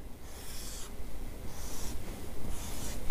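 A figure being written out by hand, pen or pencil scratching across paper in several short strokes separated by brief pauses, close and fairly quiet.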